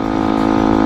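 A warm FKM 3GP motorcycle engine runs with a fluctuating RPM fault, a loud close droning hum in a very short stretch, with no talking.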